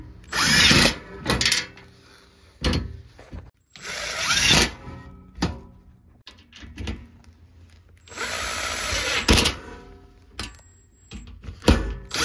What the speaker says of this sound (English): I'm using a power tool